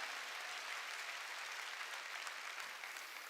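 A church congregation claps in praise, a dense, even roar of many hands sounding continuously and somewhat distant, with no pauses or talk over it.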